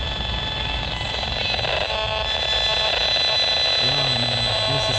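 An EMF meter's electronic tone hums steadily near a mobile phone tower, a dense buzzing drone with harmonic overtones that wavers and dips downward in pitch toward the end, fairly loud and without speech.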